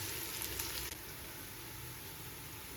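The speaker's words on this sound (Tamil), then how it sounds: "பாதி வதங்கிடுச்சு, இன்னும் கொஞ்சம் வதங்கட்டும்" Onions for prawn biryani sauté steadily in a pan, a continuous even sizzle that stays at one level throughout with no talk.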